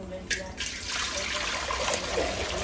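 Water is poured into a cooking pot for crab biryani, a brief splash followed by a steady close trickle, with a voice faintly present in the background.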